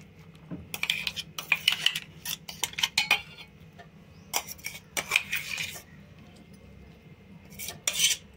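A spoon scrapes and taps as raw ivy gourd chutney is scooped into a bowl, with a series of light metallic clinks and clatters in short bursts, close and fairly quiet, with no talking.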